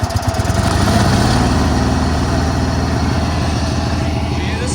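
A $20 riding lawn mower's small engine runs steadily and loudly up close after starting, with a rough, rapid chugging pulse throughout.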